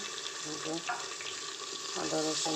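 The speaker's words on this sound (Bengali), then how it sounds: "এই যে হালকা ভাজা হয়ে গেছে পেঁয়াজগুলি" Sliced onions frying lightly in hot oil, a soft continuous sizzle with faint stirring, fairly quiet and close, with no voice over it.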